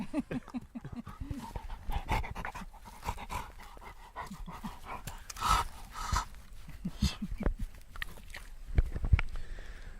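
A Labrador dog pants rapidly and steadily up close in a yard, with rhythmic breathy gasps, occasional mouth and chewing sounds, and crickets faintly in the background.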